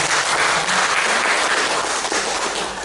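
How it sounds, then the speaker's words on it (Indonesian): An audience claps at an alumni association chair election at Universitas Saburai, sustained and dense applause that stays loud and even before easing slightly at the end. "Ayo kita kasih tepuk lagi."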